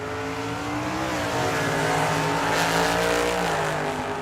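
A Ford Maverick drag racing car launches down a dragway strip, its engine roaring loud and sustained alongside another racer, with rising revs and a hint of tire noise.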